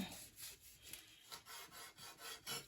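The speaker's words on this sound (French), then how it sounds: "On passe à la découpe. Alors, un couteau bien aiguisé." A sharp knife saws through kimbap rolls in repeated back-and-forth strokes, each a soft scraping rasp in a steady rhythm, close and quiet with no talking.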